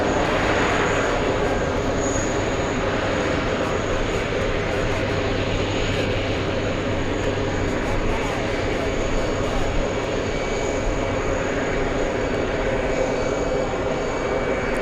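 Jet airplane engines at JFK airport heard from the TWA Hotel, a continuous broad roar and rumble at moderate distance, steady throughout with no breaks.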